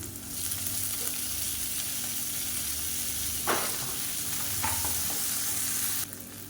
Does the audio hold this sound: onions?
yes